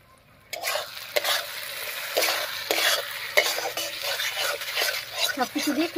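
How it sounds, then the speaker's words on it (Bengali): Chicken curry masala with coriander paste, salt and turmeric being stirred in a pan, with loud repeated scrapes and clatters of the spoon over a sizzle, and a faint voice near the end. "সবকিছু দিয়ে খুব ভালো করে মিশিয়ে নিলাম"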